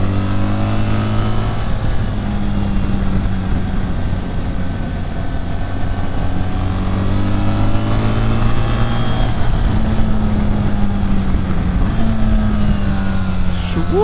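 A 2025 BMW R 1300 GS Adventure motorcycle on road-going tires hums steadily while riding, with engine harmonics rising and falling gently under continuous wind noise and a rider talking over it.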